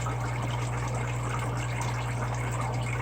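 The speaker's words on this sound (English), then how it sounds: "I'm going to do a water change" Water pours steadily into an aquarium during a tank water change, a constant, close, loud rushing flow with an underlying pump-like hum, unbroken for the whole stretch and without speech.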